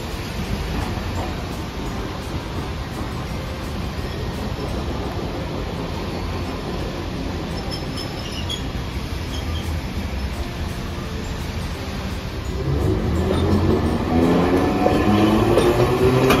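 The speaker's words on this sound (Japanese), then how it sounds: "電車が通過します。" Hiroshima Electric Railway streetcar passing at Hiroshima Station, a steady rumbling wash of rail noise that swells louder near the end with a rising whine as the tram draws close.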